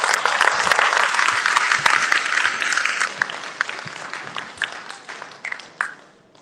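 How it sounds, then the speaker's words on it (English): A large crowd applauds at a senior high school commencement, loud dense clapping that gradually thins and fades, with scattered individual claps near the end. "Let's give them a round of applause."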